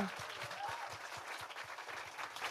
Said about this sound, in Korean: 다시 한번 좀 여러분 박수 한번 좀 부탁드리겠습니다